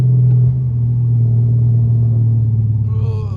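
An SRT car rolls through a residential neighbourhood with a loud, steady low engine rumble close by, and a brief higher whine near the end.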